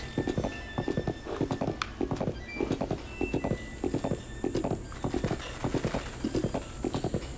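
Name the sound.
horse hooves galloping in Breath of the Wild video game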